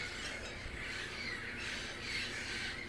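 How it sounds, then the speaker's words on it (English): About twenty parrots squawk together in a morning chorus, a continuous layered chatter of harsh calls at moderate distance, fairly faint, with no one speaking. "There's probably 20 parrots over there singing their morning song."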